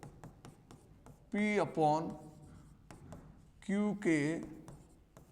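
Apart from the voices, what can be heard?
writing on a board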